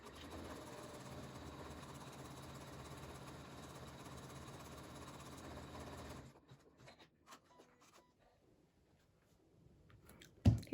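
An embroidery machine stitches a napkin ring design onto a napkin with a steady, fast mechanical whirr for about six seconds, then stops, leaving faint clicks and a sharp knock at the end.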